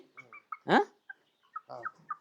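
Chickens on a farm cluck in short, close bursts, with one louder, drawn-out squawk partway through and further quick clucks after it, with no talking.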